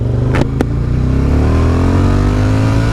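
A Suzuki TL1000R sport motorcycle accelerates hard, its engine note rising steadily in pitch from up close, loud and continuous.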